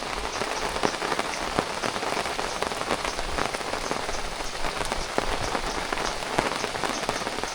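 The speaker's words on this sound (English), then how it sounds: "we're in the jungle, but there comes the rain" Heavy rain pours steadily in the jungle at Lam Ta Khlong National Park, a dense continuous patter of drops drumming on surfaces nearby, loud and unbroken with no voices.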